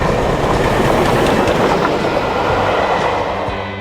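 A Great Western Railway 4073 Castle Class steam locomotive rumbles past loud and close, with rhythmic clattering of wheels over the rails, fading slightly at the end.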